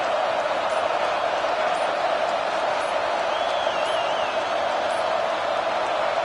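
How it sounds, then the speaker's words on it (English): A college football video game stadium crowd roars in the final minute of play, a steady, dense wall of cheering and murmur with a brief whistle-like whoop rising above it, no talk. "Tremendous crowd atmosphere now in the final minute of play."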